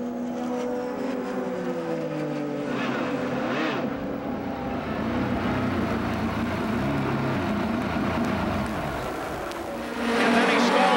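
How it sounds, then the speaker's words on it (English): A 1995 Indianapolis 500 IndyCar engine at a pit stop, with a steady, rough, wavering drone and shifting pitch that swells near the end, heard under broadcast commentary. "Listen very carefully to the engine."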